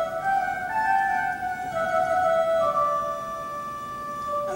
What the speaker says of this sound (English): Now we've also got what's called the flute pipes.